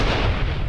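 A close, booming thunder strike from the Storm Lord fills the moment, loud and broad with a rumbling low body, heavy and unbroken for under a second.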